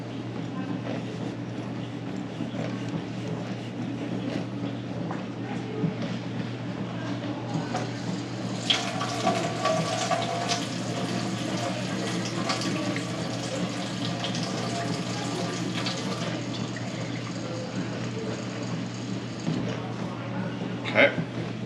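Hot water runs from a household tap with a dishwasher going nearby, making a steady rushing flow that brightens into a louder hiss midway before settling again.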